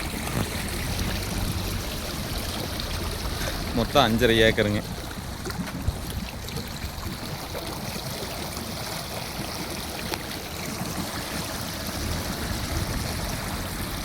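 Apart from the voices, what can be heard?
water flowing in irrigation channel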